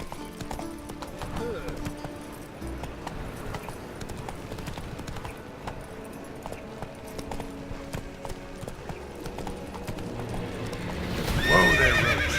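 In The Witcher 3, the horse Roach gallops with steady rhythmic hoofbeats and lets out a loud neigh near the end, while a rider's voice calls out over the hooves.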